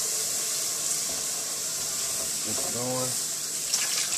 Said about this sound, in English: So I'm just gonna mix in this water.